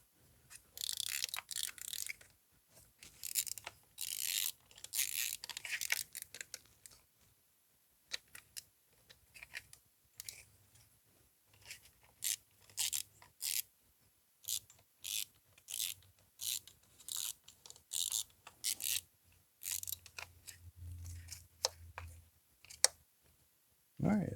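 Socket ratchet driving a screw on a Trailblazer engine during a spark plug change, many short bursts of rapid clicking separated by pauses, close up.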